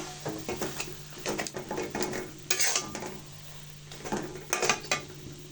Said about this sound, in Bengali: আলুটা দিয়ে ভালো করে মিশিয়ে নিব মশলার সাথে